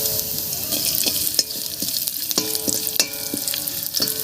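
A Bengali dal tempering of fennel seeds, chopped ginger and raisins fries in hot oil. A steady crackling sizzle continues while a spoon stirs with scattered close clicks and taps against the pan.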